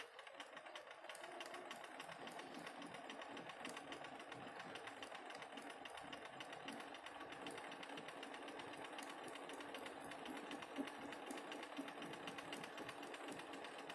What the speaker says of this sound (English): I am going to sew the whole length of this piece of fabric, slow and steady.